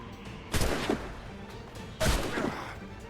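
Two loud gunshots about a second and a half apart, each a sharp booming blast with a short ringing tail, heard alone without talk.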